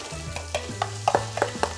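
Garlic and onions sizzle and are stirred in a hot frying pan, with a steady frying hiss broken by repeated scraping and clacking from the stirring, close up.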